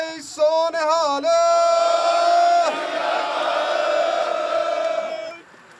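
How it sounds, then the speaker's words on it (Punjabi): A crowd of Canadian truck drivers gathered at a rally shouts the Sikh jaikara "Bole So Nihal" in a loud, ringing unison cry. The call starts with short bursts, then swells into a long sustained roar before fading out. "ਇਹਦੇ ਨਾਲ ਇੱਕ ਜਕਾਰਾ ਲੱਗੇ ਆ ਜੀ ਬੁਲਾਉਣ, ਬੋਲੇ ਸੋ ਨਿਹਾਲ।"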